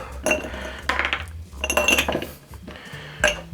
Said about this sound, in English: you'll just fill this up with a little bit of ice, just kind of like so